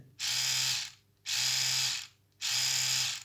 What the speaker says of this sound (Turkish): 2 dakika sonra kesik kesik böyle yani aynı şu şekilde